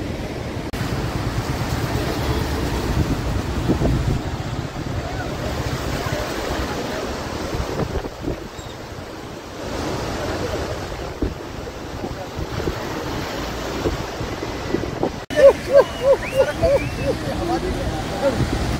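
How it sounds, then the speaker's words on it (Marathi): Water gushes hard at the Srisailam dam, a loud, continuous rushing roar mixed with heavy wind buffeting the microphone, with faint indistinct voices in the background. "पाणी बघा काय उडतंय"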